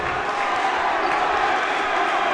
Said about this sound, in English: Saints crowd is getting electric.